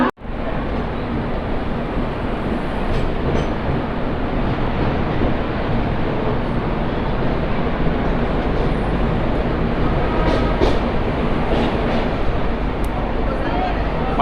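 The Mandovi Express pulls out of a station bound for Chhatrapati Shivaji Maharaj Terminus, Mumbai, with a loud, continuous rolling rumble and clatter that stays steady for the whole stretch, and no clear talk over it.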